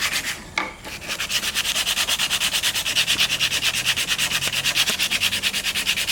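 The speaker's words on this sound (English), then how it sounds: "What you have to do is you use sanding paper." Sandpaper scrubs a broken wood carving in fast, even back-and-forth strokes, a close, loud, rhythmic rasp that starts after a brief pause and then keeps a steady beat.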